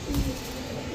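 A single low pigeon coo at a Bangladeshi pigeon market, close and brief, over a steady background hum, with no talking.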